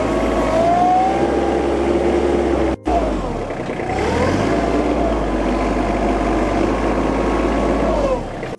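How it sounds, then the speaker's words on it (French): Iseki TM3267 hydrostatic compact tractor with front loader, its engine running steadily and loudly close by, rising and falling in revs as it works forward and back, with a brief cut partway through. "Plus je vais solliciter le tracteur en marche avant ou en marche arrière, plus le moteur va augmenter en régime automatiquement."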